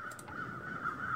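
Crows cawing in The Long Dark, a survival video game set in snowy wilderness; a steady raspy tone runs through with faint calls near the start, fairly quiet.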